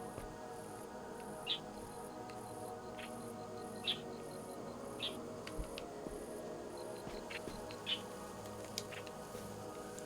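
Bird chirps play in the video game Viewfinder: short, faint high tweets repeating every second or two over a soft, steady ambient hum with light insect-like buzzing.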